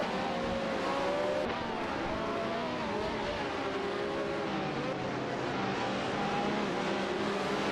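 Ferrari 312T and Brabham BT44B race cars in a racing video game, a constant layered engine roar with shifting revving tones as several cars run together, moderately loud with no clear pauses.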